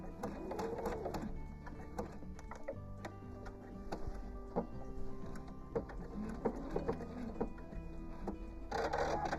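Sewing machine couching yarn onto an art quilt, running steadily with a soft mechanical ticking and whirring and occasional faint clicks, quiet and close with no voices.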